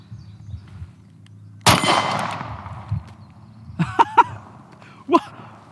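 Single sharp report from a Smith and Wesson Compact 2.0 pistol, followed a couple of seconds later by quieter clinks and metallic knocks, then one more shorter impact near the end.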